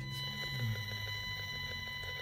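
EMF meter's radio frequency detector sounding inside a Toyota Sienna minivan near a cell tower: a steady, faint electronic buzz with tonal whine and rapid pulsing throughout, no voices.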